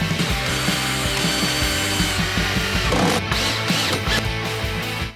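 A handheld power drill runs continuously after its bit has broken, a loud steady whirring motor with a rhythmic mechanical chatter, close and uninterrupted for a few seconds.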